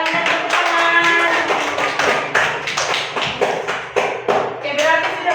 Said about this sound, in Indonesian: Iya, betul sekali. Tepuk tangan.